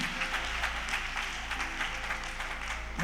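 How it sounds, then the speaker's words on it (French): Church congregation applauding and cheering for Jesus during a worship service, a steady wash of clapping with rhythmic pulses over a low bass hum, moderately loud and continuous. "est-ce que vous pouvez acclamer Jésus?"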